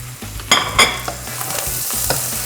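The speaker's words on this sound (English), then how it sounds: "We're taking this, we're adding it to our onions and carrots" Broccoli stirred into onions and carrots in a hot pan for creamed broccoli soup: a couple of sharp utensil scrapes against the pan over a soft, constant sizzle, close up with no voices.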